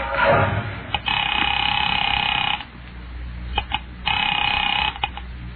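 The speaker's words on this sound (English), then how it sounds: "Picking it up quietly, I dialed my daughter's number, Alec Bartlett's wife." An old-style telephone rings twice in a radio drama, two long loud trilling bursts separated by a pause, with brief clicks and a faint breathy noise at the start.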